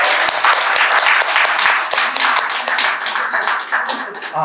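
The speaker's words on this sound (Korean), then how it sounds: "함께 박수로 마무리하겠습니다." Audience applause at a regional political-reform talk show, a dense, steady wash of many hands clapping that stays loud and continuous throughout with no talk over it.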